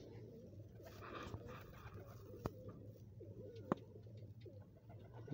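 Lahore pigeons coo in soft, repeated low rumbling calls, close and continuous, with a couple of sharp clicks or taps and faint background noise.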